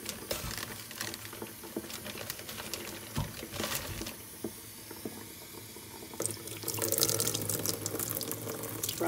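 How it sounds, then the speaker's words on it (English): Water runs from a tap, splashing and pattering into a sink, with clattering handling sounds and the flow growing stronger toward the end. "run it under warm water."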